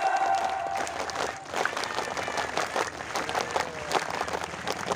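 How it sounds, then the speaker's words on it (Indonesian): Scout troop at a Pramuka campfire gathering in Karawang, West Java, clapping together outdoors; a broad burst of group clapping that holds steady with crowd noise. "Dua kali tepuk pramuka."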